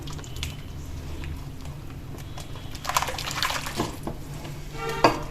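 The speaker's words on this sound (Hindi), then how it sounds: "और इसी में हम ये मट्ठा डालेंगे। मट्ठा डाल के इसको अच्छे तरह से हमें पहले अच्छे तरह से इसको मिला लेना है।" Leftover urad dal batter being mixed with buttermilk for kadhi, with soft liquid sloshing and stirring and a few brief splashy clicks near the end, fairly quiet with a low background hum.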